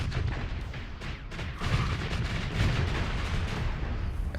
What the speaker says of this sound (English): Let's switch to the singularity cannons and take this escort out.